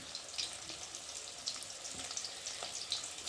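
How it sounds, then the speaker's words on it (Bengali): Chopped onion and green chili frying in hot oil in a kadai, a faint, hissing sizzle with small crackles and pops scattered throughout. "কড়াতে তেল দিয়েছি, তেলটা গরম হয়ে গেছে। এখন আমি পেঁয়াজ কুচি দিয়ে দেবো"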